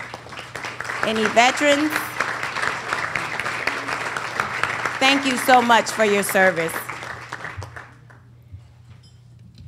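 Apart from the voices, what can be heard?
audience applause for veterans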